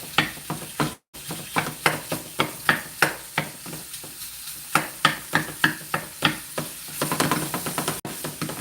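Onions sautéing in a pan for Hungarian paprika soup, a steady sizzle broken by regular knocks and scrapes of stirring, up close and loud with no talking.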